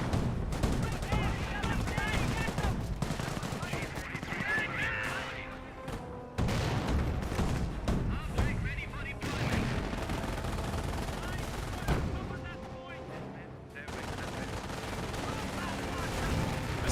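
Rifle grenadiers firing during a Company of Heroes battle: rapid, dense gunfire with bursts and occasional booms running almost continuously, mixed with talk over the top.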